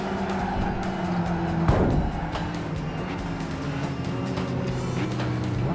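Racing cars in Gran Turismo 5 roar with a steady, loud engine drone that shifts pitch through gear changes, with a brief swell midway as another car passes close.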